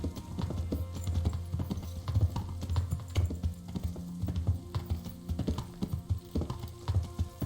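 A horse's hooves clip-clopping steadily in Kingdom Come: Deliverance, an even, close walking rhythm of hoof strikes repeating throughout with light background ambience.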